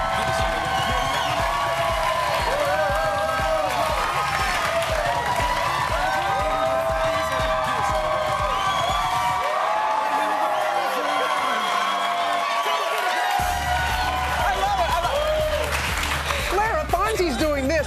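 A live studio audience at Good Morning America in Times Square cheers, whoops and claps steadily with loud, full crowd noise; people talk over it throughout and the low end briefly drops out midway.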